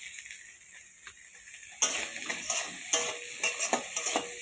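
Chopped tomatoes with salt are stirred in a pan: a quiet start, then close rhythmic scraping and clacking of a utensil against the pan over a soft sizzle, with no voices.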